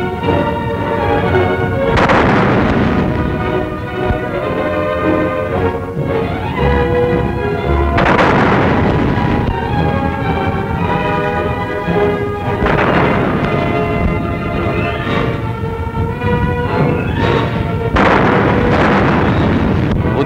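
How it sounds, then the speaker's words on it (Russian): Artillery salute fired on 1 May 1944 in the Soviet Union: several loud booming volleys burst out at intervals, layered over continuous, sustained orchestral music. "Ударили пушки на берегах Невы."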